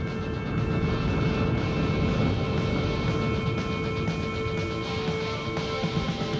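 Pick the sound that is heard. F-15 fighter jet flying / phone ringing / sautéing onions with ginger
F-15 fighter jet flying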